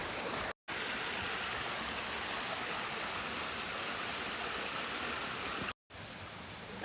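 A mountain stream rushes at the Lawakhola drinking water source, a loud, steady broadband roar of flowing water broken by two very brief gaps.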